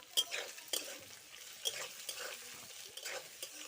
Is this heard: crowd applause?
no